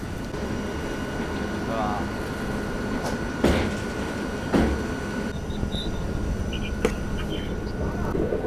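A train crossing a long rail bridge on the India–Sri Lanka route, a continuous rumbling roll with clanks and a few sharp metallic bangs as cars pass joints, heard alone.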